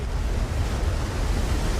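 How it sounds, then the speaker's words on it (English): Tsunami water rushes in and destroys a beach bungalow, a broad, steady roar of churning surf and rumbling low noise with no breaks, heard alone. "The tsunami rushes in, destroying the bungalow."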